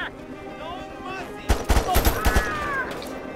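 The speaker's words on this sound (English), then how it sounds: "Oh god, stop shooting me!" Enemy gunfire aimed at the player in Mercenaries 2: World in Flames, arriving as a quick cluster of sharp, close automatic shots midway through, with quieter game ambience and voice-like sounds before and after.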